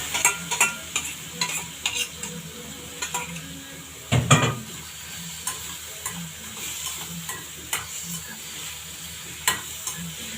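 Chopped onions frying in ghee in a pan, a steady soft sizzle broken by a string of scraping stirs and light clinks of the utensil, with one louder knock partway through.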